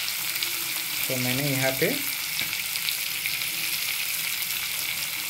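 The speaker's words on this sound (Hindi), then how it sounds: "सो मैं उसको अभी फ्राई कर लेता हूँ।" Sliced onions frying in a pan for biryani, a loud continuous crackling sizzle throughout, with someone speaking briefly over it early on.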